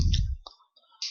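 A single key on a computer keyboard pressed, a quick plastic click followed by faint small clicks, close and isolated with no talking.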